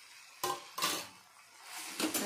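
Cooked brinjal bharit (mashed eggplant) being mixed in a pan with chopped coriander, heard as a few scraping strokes of a spoon against the pan, close and alone.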